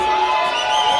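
A roomful of wedding guests cheers loudly in one short, sustained burst of massed shouting voices.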